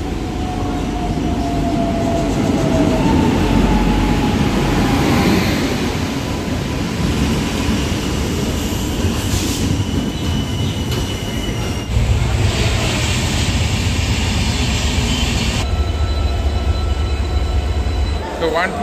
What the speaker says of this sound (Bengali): 12884 Rupasi Bangla express at last Santragachi ঢুকলো 1 ঘন্টা 15 মিনিট লেটে